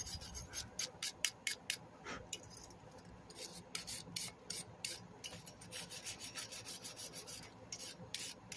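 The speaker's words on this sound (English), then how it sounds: "I'm just trying to get the oily grime off of any gasket remainders" Scraping oily grime and leftover gasket material off an MTD mower engine part, a steady series of close, rhythmic rasping strokes.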